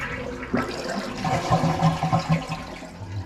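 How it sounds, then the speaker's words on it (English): A toilet tank flushes in an empty house, a loud rushing gush of water draining away that gurgles and fades over a few seconds, with no talk. "Get rid of the water in the tank just in case the tank is dripping."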